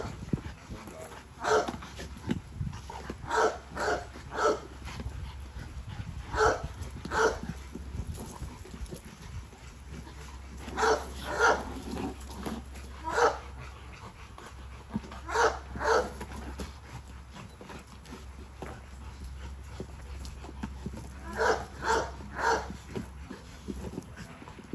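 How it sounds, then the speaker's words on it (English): Dogs bark in the background in repeated short bursts and clusters throughout, moderately loud and somewhat distant over a low steady hum. "who in that background barking back there like that"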